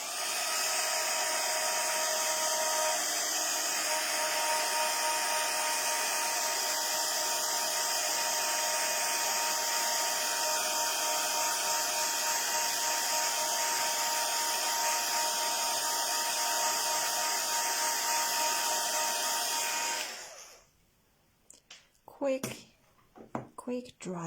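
A hair dryer or heat tool blows steadily and loudly for about twenty seconds, drying an autumn-themed craft project gently rather than heating it, then cuts off abruptly, leaving a few faint handling noises.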